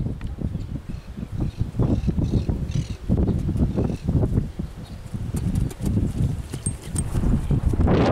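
A young, large, heavy-built picazo overo horse walks in the urban area of Chascomús, its hooves clip-clopping in a steady, fairly close rhythm throughout.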